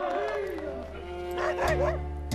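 Sled dogs from racing teams bark and yelp together in a lively, overlapping chorus outdoors in snow, with a voice talking over them.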